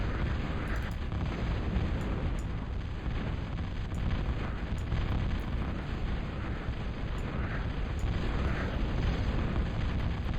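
Guardian artillery shells bursting in a multiplayer real-time strategy match on the Comet Catcher map, a dense, continuous roar of booming explosions and rumbling blasts that stays loud throughout, with sharp pops scattered on top and no voices.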